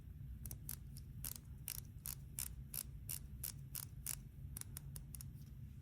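Citizen Promaster NB6025-59H titanium wristwatch ticking, with crisp, evenly spaced mechanical clicks close up against a faint low hum.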